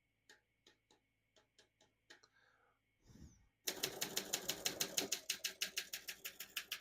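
A 1956 Olympia SM3 portable manual typewriter's keys strike in a sparse handful, then a rapid, steady burst of crisp clacking follows, close and clear with no talking.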